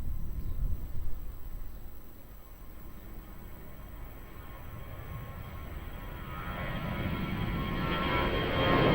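An airliner takes off at Lisbon Airport, its engine roar rising steadily from a distant rumble to a loud, broad rush as the plane powers down the runway.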